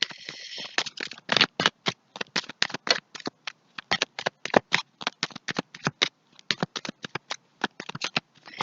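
Tarot cards being shuffled and drawn during a reading, a long run of quick, crisp riffling snaps and slides in uneven bursts, close and fairly quiet, with no talking.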